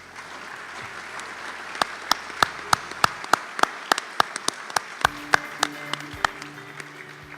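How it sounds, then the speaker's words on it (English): A small audience at the 2018 ISS design and leadership awards ceremony gives sparse, distinct claps that start after a quiet moment and continue steadily, individual hand claps standing out near the microphone. "You can clap now."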